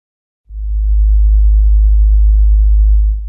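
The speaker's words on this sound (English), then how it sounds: "the frequency way down to about 50 Hertz. Let's bring the gain up a bit, and let's hear this tone" A deep, steady low 50 Hz sine tone holds for about three seconds, starting and stopping abruptly, with a faint buzzy edge appearing partway through.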